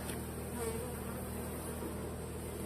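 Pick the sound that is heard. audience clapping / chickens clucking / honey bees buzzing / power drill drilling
honey bees buzzing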